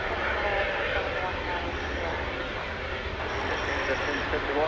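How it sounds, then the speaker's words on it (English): An American Airlines jet taxis toward the hangar at DFW Airport at night, a steady, fairly distant engine roar and whine that holds throughout. "There goes an American plane headed to the hangar."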